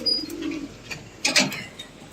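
Female pigeons in a loft give a soft coo and a few brief chirpy calls, close and moderately loud, with short quiet gaps between them.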